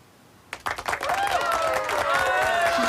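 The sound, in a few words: applause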